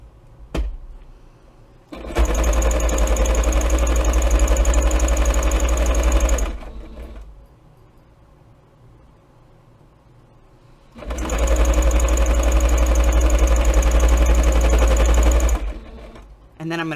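A sewing machine stitches a fabric notebook cover in two loud, steady bursts of a few seconds each, with a quiet pause between them and a short backstitch run starting at the end.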